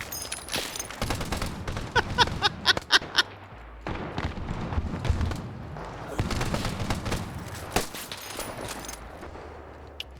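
Full-auto 36-shell shotgun fire in an online multiplayer game, rapid loud bursts of shots in uneven volleys with booming impacts across the clip, interspersed with quieter gaps.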